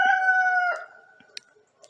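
A rooster crows once loudly and close in a backyard chicken yard, the long call fading out, followed by a few faint clucks and small scratchy sounds.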